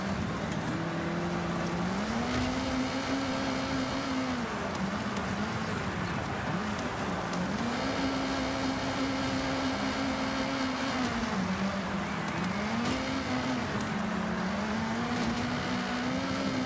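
Engine drone of a car in the racing game Forza Horizon, with a tuned build such as a Volvo 240, E30 M3, Abarth 131 or VW Golf MK1, rising and falling steadily through gear changes, loud and continuous for the whole stretch.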